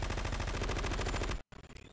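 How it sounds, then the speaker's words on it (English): Rapid automatic gunfire from Metal Gear Solid 2 rattles loudly and steadily, then cuts to a brief silence before softer scattered game sounds resume. "Are they shooting Vamp?"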